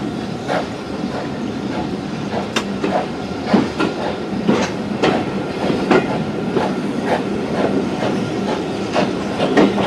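A train rumbles past on the Bluebell heritage railway with a steady clickety-clack of wheels, dense and continuous, with occasional sharp metallic squeals riding over the noise.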